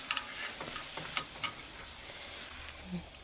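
Navajo fry bread dough frying in hot oil in a pan: a continuous, even sizzle with faint crackles and occasional pops, close and steady with no talking.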